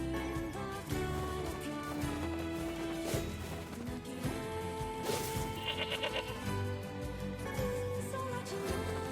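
Goats bleat in the video game Nier: Replicant, several short wavering cries rising over busy game music and sound effects.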